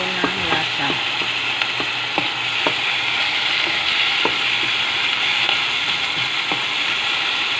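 Tomatoes and pork sautéing in a pan, a steady sizzle of frying broken by repeated scraping clicks of a utensil stirring against the pan, close and alone with no talk.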